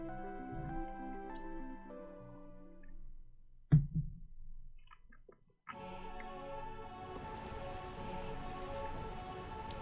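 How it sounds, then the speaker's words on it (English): Rain falling in Burmecia in the Final Fantasy 9 video game, a soft, steady patter under game music that cuts out briefly and then returns with the downpour. "when you approach Burmecia, it starts raining."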